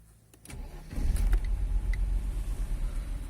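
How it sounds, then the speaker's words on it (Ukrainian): A warm Mercedes W124 with the M103 2.6 engine cranks briefly and catches, settling into a steady, fairly loud running rumble close by with no talking. "Ось так машина запускається."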